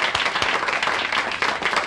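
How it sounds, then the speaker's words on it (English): A television studio audience bursts into loud, sustained clapping and applause for guest Gene Wilder at the start of a talk-show interview, dense and continuous throughout with no pause. "I would like all the people scattered around our giant studio today in one to unite in applaud"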